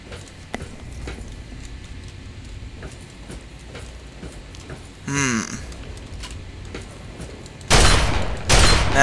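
A shotgun blast in Fallout 3, fired at radroaches; quiet ambient game sound, then a loud, sudden blast near the end followed by a second burst.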